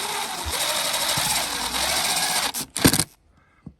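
A power drill drives self-tapping screws into a lanai deck railing, giving a sustained close, loud buzzing whine for about two and a half seconds, then a short final burst before it stops.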